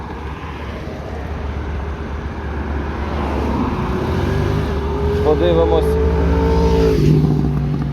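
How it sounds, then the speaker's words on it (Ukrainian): A Honda Dio AF68 fuel-injected scooter engine runs steadily and then builds revs as it accelerates, a close, continuous drone rising slightly in loudness, with someone speaking briefly over it. "Зараз перевіримо, як скутер набирає."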